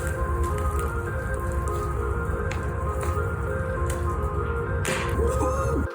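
An elephant toothpaste bottle rocket fires on its test launch, a steady wet, foamy hiss and sputter that keeps going throughout, with a sharper spraying burst just before the end.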